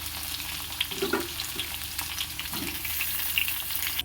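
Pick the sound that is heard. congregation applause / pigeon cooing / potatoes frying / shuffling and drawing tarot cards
potatoes frying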